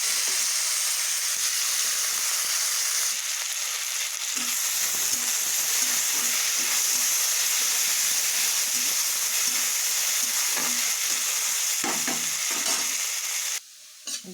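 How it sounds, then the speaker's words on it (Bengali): Cut potatoes frying in oil in a pan, a long, even hiss and sizzle heard up close, with soft stirring knocks scattered through and a brief clatter toward the end. "আলুটা ভেজে।"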